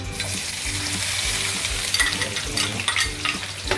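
Onion fries in hot oil in a pan, giving a continuous close sizzle with occasional stirring clinks and bursts of crackle throughout.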